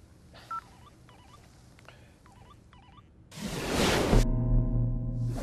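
A phone number being tapped out as a quick series of separate dialing tones, each keypress brief and evenly spaced, followed by a loud rushing swell and a steady hum with layered tones at the end.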